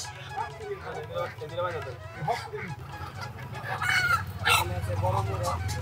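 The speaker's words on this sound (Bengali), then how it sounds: "এখানে আছে বড় মোরগ।" A large rooster crows amid clucking fowl and ducks, with people talking and bustle around them at a village market.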